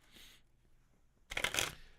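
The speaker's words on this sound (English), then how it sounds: "Jumped out of the deck when I was trying to shuffle." A deck of divination cards is shuffled by hand: a soft riffle at the start, a pause, then a louder, crisp burst of flicking cards close by.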